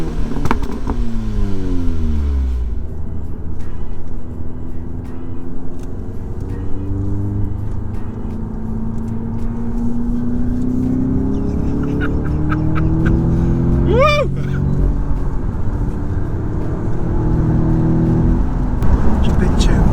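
A 500 bhp Audi S3 pulls hard through the gears, its engine note rising repeatedly in loud sweeping bursts of revving and acceleration heard from inside the car, with people talking over it.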